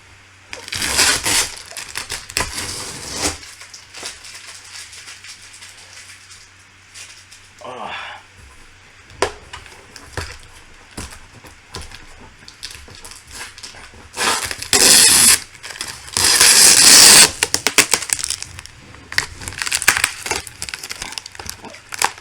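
Plastic and cardboard packaging around a piece of Nightmare Before Christmas art is torn and rustled open in bursts of crinkling and crunching, with some talking in between.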